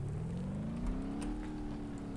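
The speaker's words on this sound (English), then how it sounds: "Again, the engine make noise," Truck engine in the BeamNG driving game, a steady droning hum whose pitch rises slowly, continuous and fairly quiet throughout with no talking.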